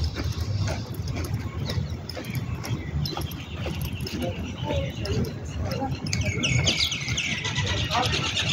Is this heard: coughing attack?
no